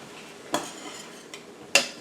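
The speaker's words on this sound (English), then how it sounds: "I've been cooking my sausage for 5 or 6 minutes and it's pretty well cooked through" Sausage cooking in a pan for homemade sausage milk gravy sizzles softly. Two or three sharp clinks of utensil against pan break through the low frying noise. There is no talking.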